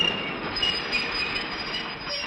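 The Tea and Sugar Train, a supply train serving remote desert settlements along the line, rumbles steadily on the track with a constant roar of wagons and wheels and faint high squeals, with no talk.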